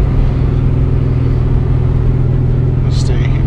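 A car engine holds a steady drone in third gear at about 2500 RPM, a loud, even low hum with road rumble and a short high chirp near the end.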